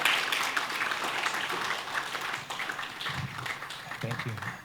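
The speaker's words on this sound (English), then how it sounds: "Go ahead and clap." An audience bursts into sustained applause, a dense wash of clapping that slowly thins toward the end, with a voice briefly heard under it.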